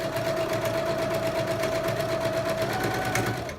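Sewing machine running steadily as it stitches recycled denim jeans with purple thread, a continuous close mechanical whir with a fast stitching rhythm and no talk.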